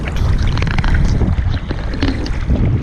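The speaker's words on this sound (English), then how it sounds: "Fish finder running, trolling motor pushing." Motorized kayak on the water with its trolling motor running, a steady loud churning rumble mixed with splashing and wind buffeting the microphone, continuous throughout with no talking.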